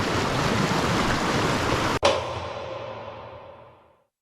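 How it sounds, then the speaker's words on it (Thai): A waterfall rushes beside a forest campsite in a steady broadband roar. The sound cuts off abruptly midway, then fades out to silence. "ข้างหลังนู้นก็เป็นน้ำตก"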